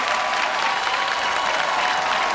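Studio audience applauding during a Korean TV comedy show taping, a dense, steady wash of clapping that holds evenly for a couple of seconds with no talk over it.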